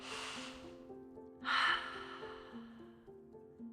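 Slow deep breath during a seated chair yoga neck stretch: a soft exhale fades out, then a sharp, close inhale through the nose follows, over gentle background music.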